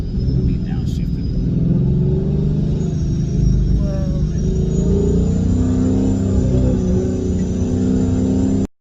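A car engine roars loudly and steadily after a downshift, a sustained high-revving drone heard from inside the moving vehicle with road rumble beneath.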